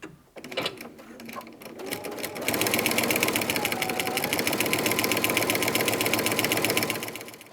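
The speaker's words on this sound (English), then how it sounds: "now I think I've got green in the machine, so I'll leave the green in there. And we're just going to run this through." Sewing machine top stitching a Christmas advent calendar fabric panel, starting with a few short bursts and then running in a fast, steady mechanical whir of needle strokes, close and continuous before slowing at the end.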